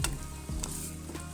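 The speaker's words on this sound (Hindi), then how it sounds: "आलू डालने के बाद हम इसको मज़ीद जो है ना वो 5 से 10 मिनट तक भूनेंगे।" Cubed potatoes frying in a pan with spiced minced meat for aloo qeema, a steady close sizzle with a few scraping stirs of a spoon.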